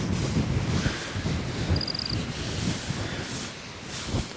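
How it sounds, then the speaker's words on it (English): Steady wind blowing across an open field of damp, rained-on hay, a constant broadband rush with gusty swells, close to the microphone and heard alone. "With this wind, the wind is our friend for drying."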